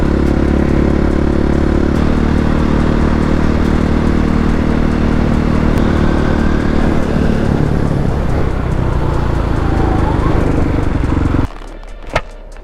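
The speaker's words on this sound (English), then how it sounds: "A lot of wind noise in the helmet" Loud, steady roar of a stunt motorcycle being ridden with heavy wind buffeting inside the helmet, continuous engine and rushing air that drops off abruptly near the end, followed by a single sharp knock.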